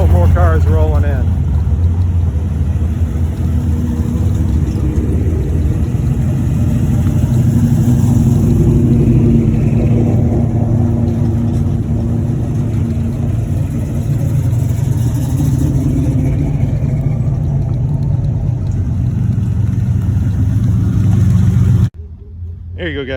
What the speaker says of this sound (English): You can see there's still more cars rolling in.